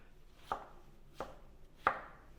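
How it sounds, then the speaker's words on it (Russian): A knife chops onion on a cutting board in three distinct, evenly spaced strikes, quiet and close, with no talking. "Дальше мы нарезаем лук."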